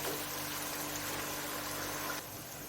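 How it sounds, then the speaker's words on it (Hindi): A small amount of water, a few tablespoons, is poured into the masala for beef kabab, a faint steady trickling hiss that continues and then drops off slightly near the end. "इसमें थोड़ा सा मसालों में पानी में ऐड करूँगी, बस 2-3 टेबल स्पून"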